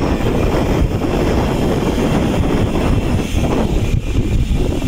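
Steady, loud wind roaring across an open microphone while riding, a constant low rumble and buffeting with no voices over it.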